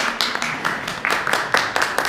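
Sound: audience applause

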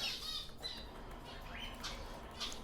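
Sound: budgerigar chicks squawking and flapping in a cage

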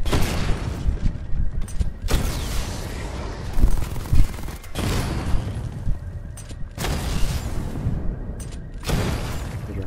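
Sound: Batman's missile barrage firing in Batman: Arkham Knight video game

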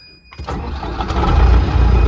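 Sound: tractor engine starting

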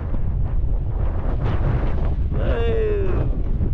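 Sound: wind blowing on the microphone

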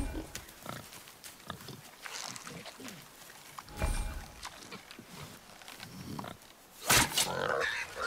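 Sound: wild boar grunting, video game God of War

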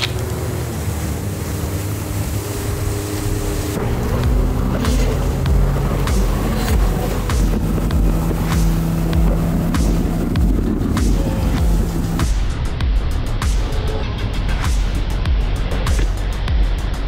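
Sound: jet ski engine running on the ocean

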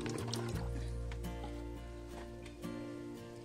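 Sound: pouring liquid fertilizer onto a flowering plant

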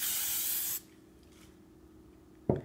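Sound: aerosol spray can spraying

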